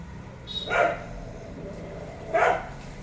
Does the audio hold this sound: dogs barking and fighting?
yes